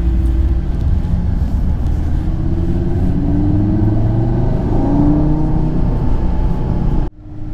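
A 400 horsepower Audi RS3 accelerates up the Stelvio Pass, with a loud, steady engine roar and rising tone that holds for several seconds and then cuts off abruptly.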